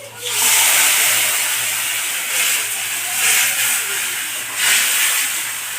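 A paste of green chilli, ginger, cumin and a little coriander hits hot oil in a pan, sending up a loud, steady, broad hiss that swells and eases in a few waves.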